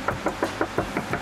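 Repeated knocks rattle on a bare, unsoundproofed metal panel of a BMW 4 Series F32, seven evenly spaced hollow raps, close and fairly quiet with no talk.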